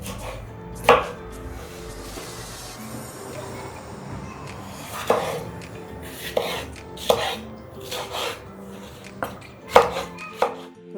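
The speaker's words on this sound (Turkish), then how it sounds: "Böyle hepsini doğrayalım malzemelerimizi." Knife chopping ingredients for tarhana on a board in sparse, irregular strikes, a few sharp chops spaced apart over a quiet kitchen background.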